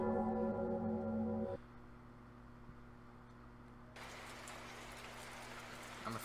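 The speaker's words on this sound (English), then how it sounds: "It's raining outside." Steady rain hiss falls in a video game, faint at first under a droning musical tone, then swelling louder and brighter after a few seconds and continuing evenly to the end.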